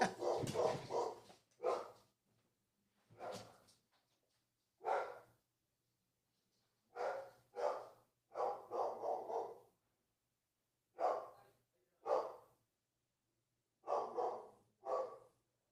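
Dog barking indoors in short separated bursts, several loud volleys spaced by pauses with breathy, snorting sounds between, fairly close and with no talking.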